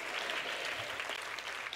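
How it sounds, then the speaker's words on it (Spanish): Faint, steady clapping from a church congregation during a sermon, a brief continuous patter heard at a distance. "Dele fuerte ese aplauso al Señor."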